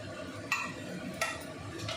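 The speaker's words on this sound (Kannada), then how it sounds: "ಈ ಮಿಶ್ರಣದೊಂದಿಗೆ ಇವಾಗ ಹುಳಿ ಪುಡಿಯನ್ನು ಮಿಶ್ರಣ ಮಾಡಿಕೊಳ್ಬೇಕು." A spoon scrapes and stirs huli powder into a tomato tempering in a pan for Brahmin-style dantu soppina huli, two distinct metallic clinks over a soft continuous sizzle, without any talking.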